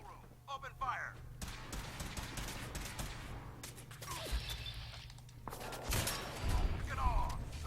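Gunfire rattles through a Fallout 4 firefight on very hard difficulty, a sniper build shooting in short bursts with sharp cracks and booms, under other voices and game sounds, closer and louder toward the end.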